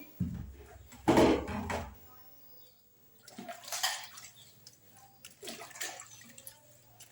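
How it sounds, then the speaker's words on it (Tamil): Water splashes and pours while a wet grinder is washed, with close, uneven bursts of running and sloshing water. Brief knocks and quiet pauses fall between them. "இந்த கிரைண்டர்ஸ் கழுவணும், கழுவுதேன்"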